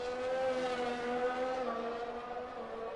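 An F1 car at Silverstone in a racing video game drops down to second gear and then upshifts early to third. The engine note is fairly faint, a buzzing whine whose pitch dips and then climbs again, with no voices.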